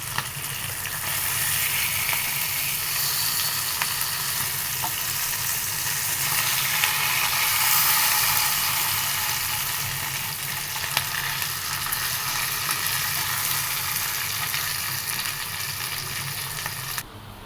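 Fish fries on a tawa pan over a medium flame, giving a steady, close, continuous sizzle with crackling spatters throughout and no voices.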